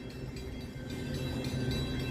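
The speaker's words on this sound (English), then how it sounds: "that's the eastbound train. That's going to be arriving." Eastbound train arriving at Bay Shore station on Long Island, a steady low rumble of rolling cars that grows slightly louder and nearer, with no talking.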